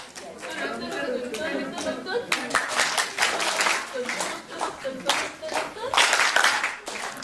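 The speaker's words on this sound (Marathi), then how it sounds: "टाळ्या आज अगदी लईत वाजतात बरं का" A crowd at a World Parkinson's Day gathering claps in rhythm, with sharp, evenly spaced hand claps building over several seconds while people chatter and talk over it.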